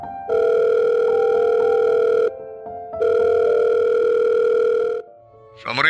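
Two long electronic telephone ringback tones, each lasting about two seconds with a short gap between, loud and steady, followed by a brief click at the end.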